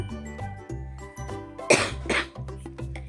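A single sharp cough breaks out, followed by a second rougher one, over steady tonal background music.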